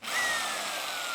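A power drill spins up into wood, a brief close whine that rises quickly and then holds steady.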